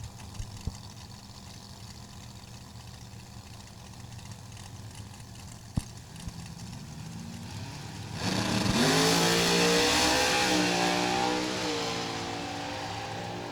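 Supercharged Chevrolet drag racing cars, one old-school and one new-school, idle with a low rumble at the starting line before a sudden loud roaring burst of engine revving that holds and then slowly fades.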